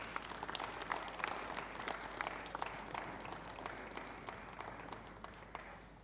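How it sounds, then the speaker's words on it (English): A conference audience applauds as a violinist comes to the stage, a faint, distant wash of clapping with sharper individual claps standing out over a low steady hum. "Keep clapping."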